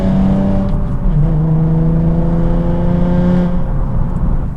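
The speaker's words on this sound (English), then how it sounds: "coming up to these long sweepers again, accelerating like last time" An Audi TT-RS accelerates hard through long sweeping bends, its engine note rising loud and close from inside the car, climbing steadily in pitch with a brief dip as it shifts.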